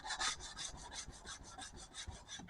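Sanding knife scales at 220 grit gives a steady, rhythmic rasping rub of abrasive on wood, repeated back-and-forth strokes at close range, fairly quiet, with no talking.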